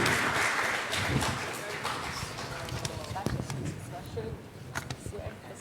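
An audience at a forum session claps, a dense patter of applause that swells and then tapers off into scattered claps, with people talking faintly underneath.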